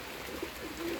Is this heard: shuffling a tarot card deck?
no